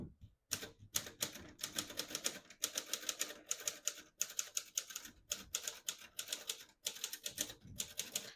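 A 1934 Corona Silent vintage portable typewriter being typed on, with fast bursts of soft, muted keystrokes clattering close up, separated by brief pauses.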